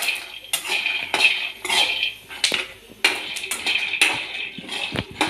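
Peanuts roasting in a pan for palli podi, heard as bright metallic scraping and clinking of a utensil against the pan in repeated strokes, close and fairly loud.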